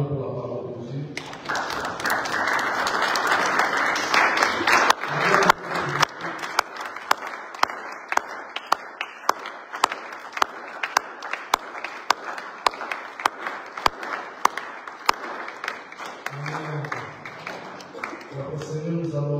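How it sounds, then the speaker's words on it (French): A church congregation breaks into sustained applause that fills the room for most of the stretch, with distinct sharp claps standing out in a loose rhythm near the end. Faint voices sit at the edges before and after. "Acclamons pour la parole de Dieu."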